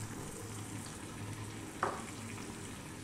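Leeks, celery and onion sizzle in butter in a soup pot, a steady even frying hiss with one brief clink partway through, no talking.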